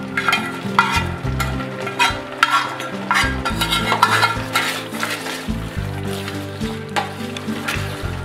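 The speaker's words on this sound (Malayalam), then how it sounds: "അതിനുശേഷം നെയ്യിൽ വറുത്തെടുത്ത തേങ്ങാക്കൊത്തും ഉണക്കമുന്തിരിയും അതിലേക്കിടുന്നു. അതിനോടൊപ്പം വന്ന നെയ്യും അതിലേക്ക് ഒഴിക്കുന്നു." Ghee-fried coconut pieces and raisins, with their ghee, go into a pot of Kerala rice payasam. A spoon stirs and scrapes against the metal pot in steady, close, uneven strokes, with soft sizzling and clinks underneath.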